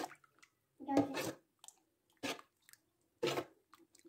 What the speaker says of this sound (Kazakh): Жақсылап қозғап шығамыз.